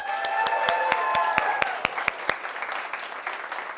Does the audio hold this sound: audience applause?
yes